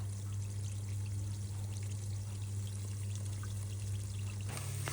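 Curry puffs with a sweet filling deep-fry in hot oil, giving a steady, dense bubbling sizzle over a low hum that continues without pause and shifts slightly at the very end.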